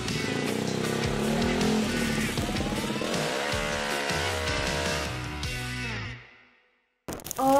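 A modified daily-use automatic scooter revs hard on a dyno at a motorcycle shop, the engine climbing steadily through the gears in one long loud pull before cutting off, followed by a brief burst of noise.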